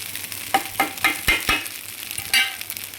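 Grated coconut being stirred into a hot pan while cooking aval kolukattai, a Tamil flattened-rice dumpling dish; a few distinct scraping strokes of the spoon land over a soft, steady sizzle, close and fairly loud, with no talking.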